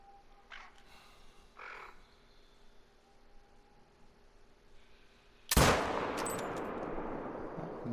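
A single loud rifle shot fired at a deer on Revontuli Coast in a hunting video game, a sharp crack that rings out into a long decaying echo after quiet ambience with faint bird calls.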